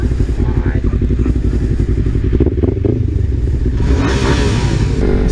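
A loud motorcycle engine rumbles and revs close by in a dense, continuous roar, with pitch rising toward the end and voices talking over it.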